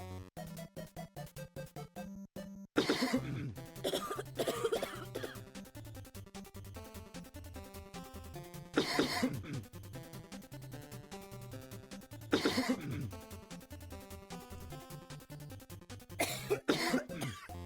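Cough sound effects fire off on a livestream, several separate bursts of coughing spaced a few seconds apart, each loud and close, over a steady bed of background music.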